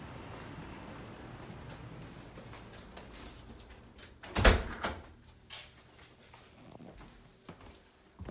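Front door of an apartment building on Massachusetts Avenue opening and closing: a loud sharp bang midway, then fainter rattles and clunks over quiet room tone.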